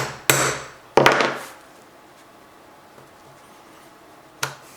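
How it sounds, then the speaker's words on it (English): A hammer strikes a metal punch tool to pierce stitch holes through a paper pattern and shoe material, three sharp, close knocks, the first two a second apart and a third after a pause. "Grab a punch tool and a hammer. Punch out all of the corresponding stitch holes on the pattern."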